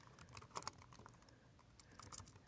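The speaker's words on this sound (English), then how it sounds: "I'm going to go ahead and start typing in my text." Quiet, close typing on a computer keyboard while writing HTML5 code, a run of light irregular key clicks with a brief faster cluster early on, alone with no talking.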